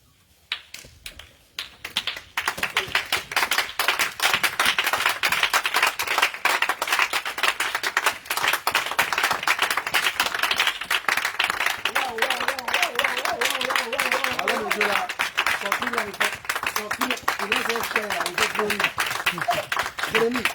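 Congregation clapping and applauding at an intense night prayer and healing revival service in Grand-Bassam, a dense steady patter of many hands filling the room for about twenty seconds, with voices mixed in.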